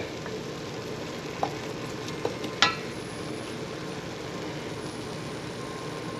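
Pancetta and sofrito sizzling in a pot on a home stove, a steady soft frying hiss with a few faint clinks from a utensil.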